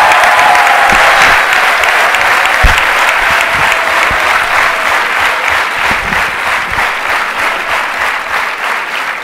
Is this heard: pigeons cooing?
no